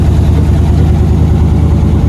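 A V8-swapped S10 with a freshly fitted 5-speed idles with no exhaust installed and header paint cooking off, giving a loud, steady, throbbing rumble with a close, raw quality and no voices.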